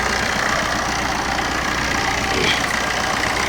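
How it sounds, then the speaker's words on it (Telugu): A car engine idles steadily and close by, a continuous low rumble with a faint knocking texture that holds even for the whole stretch. "ఇంజన్ సౌండ్ మీరు లైవ్లో చూడవచ్చు మీరు"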